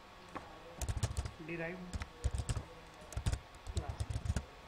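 Code being typed on a computer keyboard, clusters of quick close key clicks in short bursts, with someone speaking briefly over them.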